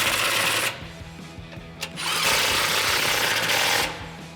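Power tool running in loud close bursts while tightening 13mm bolts on a Mishimoto performance intercooler in a 2015-2019 F150 EcoBoost, with two buzzing runs separated by a short pause.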